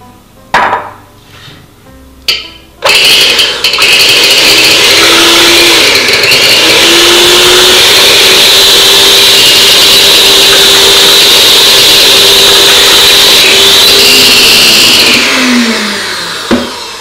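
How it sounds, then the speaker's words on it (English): An electric beater whips egg whites for a pavlova, starting with a few short bursts before a loud, steady, high whirring drone runs for about fourteen seconds and then winds down. "you can whip this by hand, or an electric beater is definitely easier"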